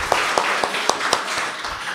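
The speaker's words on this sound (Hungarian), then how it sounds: "tapsoljuk meg a Karcsit" An audience applauds at a church gathering, a steady wash of clapping with a few sharper individual claps standing out, moderately close and sustained throughout without talk.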